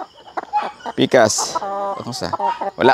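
Lohmann layer pullets cluck on a Cebu farm, giving short fowl calls mixed in with close, steady conversation.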